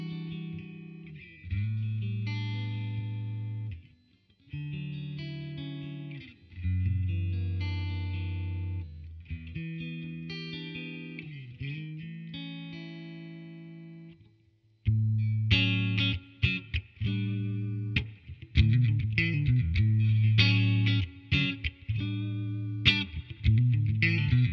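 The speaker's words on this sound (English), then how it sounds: "Let's have some clean tones." Electric guitar played with clean tones through a Mesa Boogie amp, sustained chords and picked notes ringing out loud and alone, with a brief pause before a busier, brighter passage.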